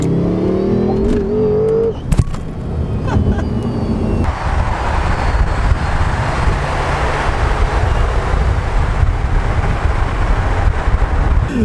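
A BMW F10 M5 engine roars loudly and steadily with dense, sustained noise after a brief sharp knock, like hard acceleration heard from inside the car.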